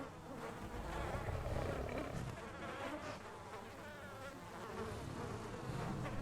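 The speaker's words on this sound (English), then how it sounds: "as you can hear, the flies are buzzing around" Flies buzz steadily around rotting organs inside a video game: a close, continuous insect drone that swells and fades slightly as they circle, with no speech.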